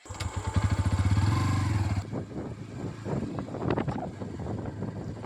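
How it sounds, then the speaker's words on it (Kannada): A Bajaj Pulsar N125 motorcycle rides off-road in fourth gear on a rough hill track, its engine droning loudly and steadily up close before wind buffeting and road rumble take over. "ಗಾಡಿ ಈಗ 4th ಗೇರಲ್ಲಿದೆ. ಅವಾಗ ಚೆನ್ನಾಗೇ ಓಡ್ತಾ ಇದೆ ಗಾಡಿ."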